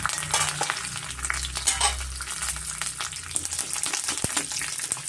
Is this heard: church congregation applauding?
no